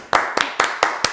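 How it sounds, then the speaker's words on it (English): Five sharp hand claps in an even, quick rhythm, close and crisp, each standing out clearly against a quiet background. "Everybody clap your hands."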